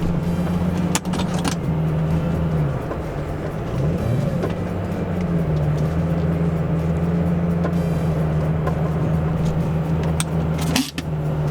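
Lamborghini V10 car with a gated manual pulling slowly into a shop on a snowy day, its steady low engine drone holding throughout with a brief dip and rise midway and a short clunk near the end.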